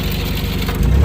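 A skid steer engine throttled up, giving a loud, steady, rough mechanical roar with a rapid low pulsing that swells a little louder near the end of the brief burst.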